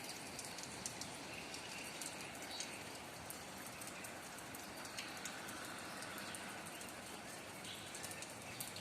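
Steady rain falls across a village with an even, hissing patter of drops, with faint birds calling in the background and no voices.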